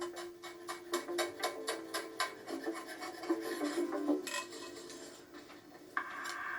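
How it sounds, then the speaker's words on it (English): Fresh dill being finely chopped with a knife on a board, a quick run of crisp, evenly spaced chops up close that slows into a few scattered cuts and a scrape, with no talking. "Some fresh dill. Finely chop that."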